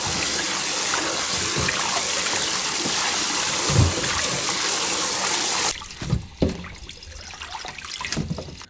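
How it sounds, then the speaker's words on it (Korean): Mallow leaves are rinsed in a basin of water for soup, with steady splashing and running water up close, then after a pause a few separate sloshes and drips as the leaves are handled. "아욱을 딱 넣고 이제 물에 2번 정도 헹궜잖아요"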